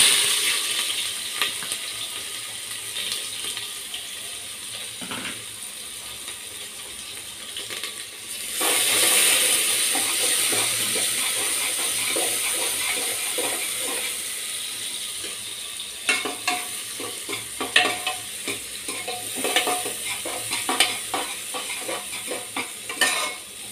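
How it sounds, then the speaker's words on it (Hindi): Onions frying with whole spices in a pan of oil, a steady sizzle with occasional stirring scrapes, growing louder midway as the pan is stirred. "प्याज को अच्छे से गोल्डन होने तक पका लेंगे।"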